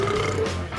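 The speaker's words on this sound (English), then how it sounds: "these belching, burping and whiz-popping sheep are contributing to global warming with their gas emissions" A sheep lets out a single low, rumbling burp, short and close, with a throaty buzzing tone and no talking over it.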